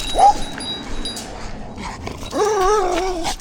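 A young Patou (Pyrenean mountain dog) gives a brief high whimper early on, then a longer wavering whine toward the end, close by, with someone talking softly in between.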